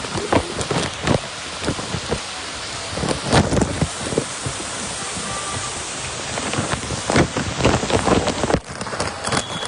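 Heavy rain pours at Dwarka, a loud continuous wash of drops with bursts of wind buffeting the microphone and repeated sharp spatters close by.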